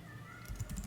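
Quick keystrokes on a computer keyboard as a terminal command is typed, a short run of close, soft clicks over low background hum.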